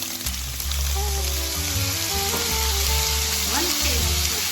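Soy sauce hits a hot frying pan with ginger and spring onion, giving a loud, steady sizzle and crackle up close for a few seconds, with faint stirring scrapes and no talk.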